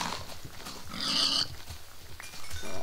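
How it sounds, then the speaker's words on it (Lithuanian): Pigs grunting and oinking in the video game Minecraft, a few short snorts close by, against quiet game background sound with no talk. "Va, kiaulės!"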